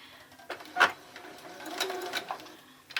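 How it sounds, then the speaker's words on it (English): A sewing machine runs a normal straight stitch on a pillow cover, its fabric taps and clicks faint and close, with a few sharper knocks over a quiet hum. "just doing a normal straight stitch"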